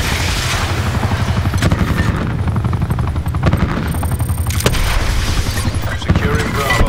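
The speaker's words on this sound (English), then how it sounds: "Hostile attack chopper inbound." Attack helicopter in the Black Ops 4 video game, its rotor chop thumping under bursts of gunfire and explosions, loud and busy throughout the match.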